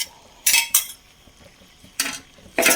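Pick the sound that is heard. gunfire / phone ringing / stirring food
stirring food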